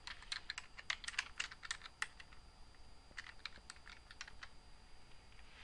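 A computer keyboard clatters as a search is typed, with light, quick keystrokes in two bursts separated by a brief pause, close and quiet.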